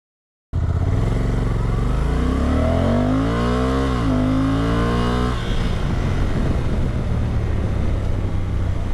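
A Honda NT1100 DCT touring motorcycle engine revs up close and loud, its pitch climbing smoothly through the rpm range, then shifting into a steady, rougher drone with no talk over it.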